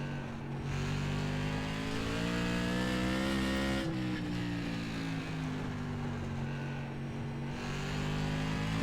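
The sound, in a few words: Tour Modified race car driving, shifting gears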